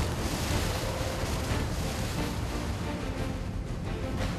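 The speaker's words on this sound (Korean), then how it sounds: "금방이라도 배를 삼킬 듯한 거센 파도 때문에 위태롭게 흔들리는 배" Rough open Pacific sea waves rocking a squid fishing boat, a continuous loud rumbling wash of water and wind with low churning surges, no voices.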